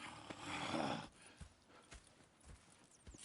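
Horse hooves clip-clop on the ground in Red Dead Redemption 2, a handful of separate, fairly quiet steps at an uneven walking pace after a brief louder rustle at the start.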